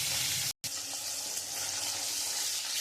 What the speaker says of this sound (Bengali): কড়াইয়ের তেলটা গরম হয়ে গেছে, আমি এবারে মাছটা দিয়ে দেবো।